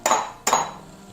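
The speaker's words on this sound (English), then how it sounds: "So now we're just going to separate our eggs." Two quick sharp clinks in a kitchen as eggs are cracked against a bowl while being separated, each a bright tap with a short ring, close and clear with no voices.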